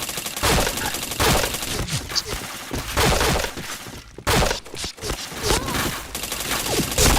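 Rapid gunfire in a video game during a headshot sequence, dense bursts of sharp cracks and thuds in quick irregular volleys, loud and close, with brief pauses between strings.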